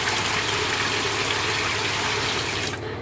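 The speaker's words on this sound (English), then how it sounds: "It added more water." A Speed Queen washing machine fills with water, a loud steady gush of running water that cuts off abruptly near the end, with no voices.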